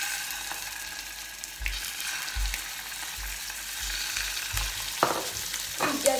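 Scallops frying in oil in a hot wok, a steady soft sizzle with a few louder spits and stirring scrapes near the end, no voices.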